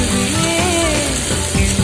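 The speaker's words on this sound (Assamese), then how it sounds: "কাটি থোৱা পিঁয়াজখিনি এড কৰি সেইখিনিও যেতিয়ালৈকে গল্ডেন ব্ৰাউন হৈ নাযায় তেতিয়ালৈকে ভাজি ল'লে হ'ল।" Chopped onions fry in hot oil in a pan until golden brown, giving a loud, close, steady sizzle with a tonal hum running underneath.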